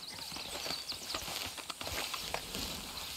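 Horse hooves clip-clopping in Red Dead Redemption 2, a steady walking rhythm of hoofbeats on hard ground, fairly close, with game ambience behind.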